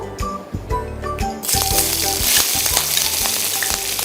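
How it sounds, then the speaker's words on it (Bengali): Chopped onion is added to hot soybean oil and starts frying with a sudden loud sizzle. The sizzle holds as a steady hiss, with stirring clatter heard both before and during it. "আমি এখন সামান্য পরিমাণ পেঁয়াজ কুচি দিয়ে দিব।"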